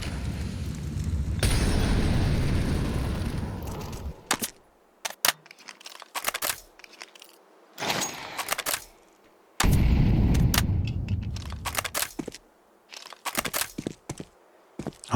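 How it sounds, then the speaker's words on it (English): Grenade blasts in a competitive shooter match, loud roaring bursts that rise and cut off abruptly, separated by stretches of sharp cracks and quieter gaps. "I don't think I'm still used to the nade sounds"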